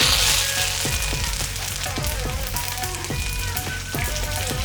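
Green chilies and curry leaves fry in hot oil with a steady, dense sizzle and crackle, loud and close, accompanied by a few faint stirring taps, and no voice is heard.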